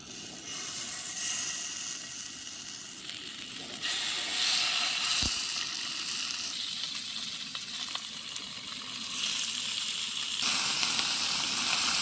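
Fish caught with a cast net sizzle steadily as they fry over a very hot makeshift stove beside the Bhavani River, a dense, continuous hiss of oil lasting the whole stretch with brief swells and no talking.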